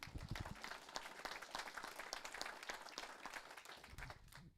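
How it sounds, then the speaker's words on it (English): A crowd at a woodworkers' guild meeting gives a round of applause, steady clapping from many hands held at moderate distance for several seconds before it trails off. "Round of applause."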